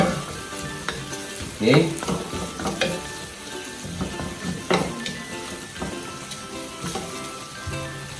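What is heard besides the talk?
vegetables and beef browning in a pot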